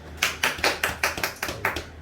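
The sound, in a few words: congregation clapping hands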